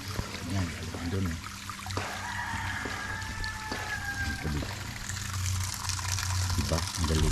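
Spring water trickles and splashes steadily from an uphill source on a rural farm path, a close, continuous gurgling stream with a person talking over it at times.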